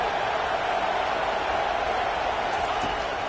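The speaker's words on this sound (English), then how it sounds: "It is getting loud as this crowd tries to help its defense." Loud, steady stadium crowd roar in an NCAA 25 college football video game, swelling to a continuous wash of noise as the home fans try to help their defense, with no clear breaks.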